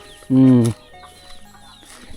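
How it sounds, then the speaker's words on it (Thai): A chicken pecking at rice in a countryside village near the Vietnam border lets out one loud, short squawking cluck close by, followed by a quieter stretch of low background sound. "ไก่กำลังกินข้าว"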